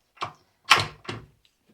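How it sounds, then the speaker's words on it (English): A manual chicken coop door latch is flicked shut, giving three short, close clacks of metal and wood in quick succession, the middle one loudest, with no talking. "I just flick this and it locks the exact same way"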